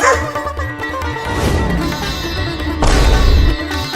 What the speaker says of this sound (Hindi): वो कुत्ता मेरी तरफ दौड़ते हुए क्यों आ रहा है?